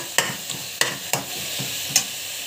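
Masala sautéing in a pan, with a soft continuous sizzle broken by several sharp scrapes and clacks of a spoon stirring at an uneven rhythm.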